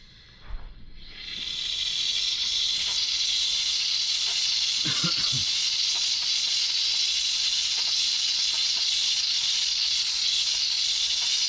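A steamer loosening window tint and glue gives a steady, loud hiss of steam that starts after a brief pause and runs continuously, with a few faint knocks partway through.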